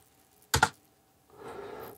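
A computer keyboard on an HP Compaq dc7700 desktop has a password typed into it: a quick pair of sharp keystrokes, a short pause, then a softer rustling clatter of keys, all close and without any talk.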